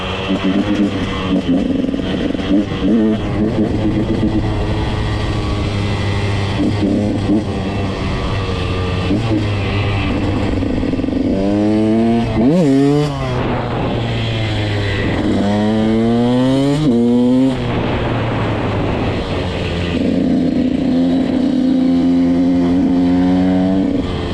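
A motorcycle engine rumbling steadily, then revving up and down in repeated surges as the rider accelerates while practising wheelies, close and loud throughout.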